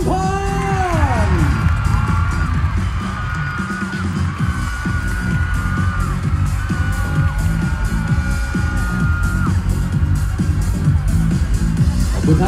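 A large audience at the Miss Grand Thailand 2022 pageant claps and cheers loudly for Miss Grand Chumphon, with whoops and screams over a music track and an amplified voice, sustained at full volume throughout.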